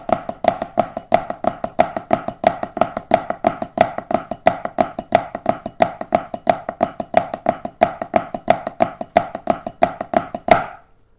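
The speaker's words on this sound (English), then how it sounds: "let me show you with flam taps how we could open up the flams a little bit as well" Flam taps played on a snare and floor tom, a fast, evenly spaced run of sharp drum strokes that keeps a steady pulse for about ten seconds before a final louder hit. No voices.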